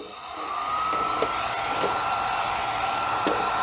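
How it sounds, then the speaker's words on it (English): Continuous whirring blow of a hair dryer running nearby, steady and fairly loud, with a few soft knocks along the way. "I'm going to use the hair dryer, blow dryer."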